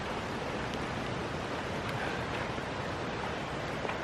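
Heavy rain pours down beside the fallen remains of an old miners' cabin next to a river, a dense, steady hiss of water close by with no voices.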